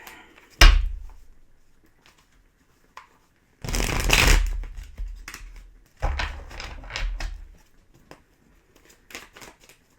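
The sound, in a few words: shuffling a tarot card deck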